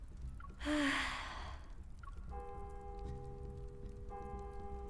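In the Love and Deepspace video game, a faint bell rings out of the depths of the fog, thin sustained tones drifting under a breathy gasp and a low ambient hum.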